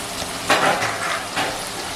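Chopped onion and tomato sizzle in a pan over a low gas flame, with a steady crackle broken by a couple of louder hissing bursts as the mix is stirred.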